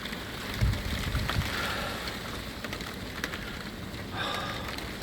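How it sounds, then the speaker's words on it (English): Heavy rain pelting steadily outdoors by a garden pond during a wild, freezing wind, a loud continuous hiss with scattered sharper drops and gusty swells throughout. "But it is absolutely freezing cold and heavy rain."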